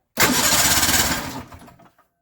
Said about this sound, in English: All right, start it up again, see what happens.